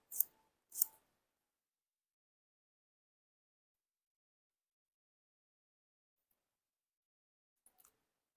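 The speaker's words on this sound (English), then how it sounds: "cut the hair." Two quick, crisp scissor snips cut hair in a salon-style haircut, followed by long silence and a few faint ticks near the end.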